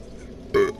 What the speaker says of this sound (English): That was a nasty burp.